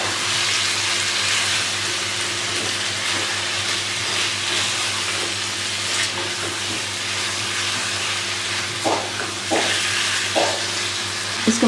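Chicken fries with softened tomatoes in a pan, giving a loud, continuous close sizzle with occasional scraping stirs and light clinks of a utensil, no one speaking.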